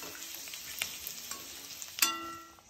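Coriander stems and spices sautéing in oil in a pan, a faint steady sizzle with a few light stirring scrapes and one sharper clink near the end.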